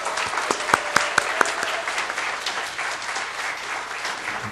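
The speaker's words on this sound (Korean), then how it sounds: "우리 강윤규 목사님 나오실 때 뜨거운 박수로 환영하도록 하겠습니다" A church congregation at a mothers' prayer meeting breaks into warm applause to welcome Pastor Kang: a few sharp, close claps stand out at the start, then dense clapping continues steadily without talk.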